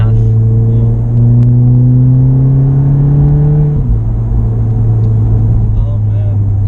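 Stage 2 Volkswagen Golf R with roughly 400 horsepower, its engine droning steadily and rising in pitch as it accelerates, then dropping briefly around a shift before pulling on again, heard loud from inside the cabin.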